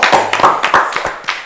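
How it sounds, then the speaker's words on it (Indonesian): A handful of sharp, close hand claps in an uneven rhythm, a few people clapping briefly at a vocational school gathering to honor top-scoring students. "Tepuk tangan dulu dong."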